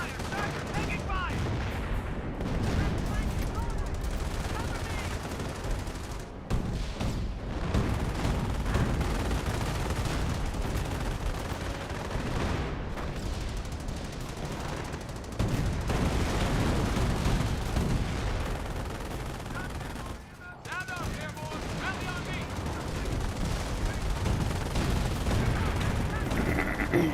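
Battle gunfire in the World War II strategy game Company of Heroes: a continuous roar of rifle and machine-gun fire mixed with explosions, loud and dense for nearly half a minute with only brief dips.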